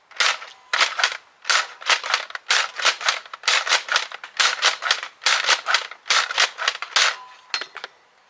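Nerf Elite 2.0 Eaglepoint blaster fired repeatedly with its barrel attachment removed, a steady run of sharp plastic clacks and spring-driven pops in quick pairs and clusters, close and crisp with no talking.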